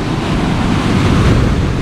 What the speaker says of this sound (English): this beautiful paradise I'm in with waves crashing behind me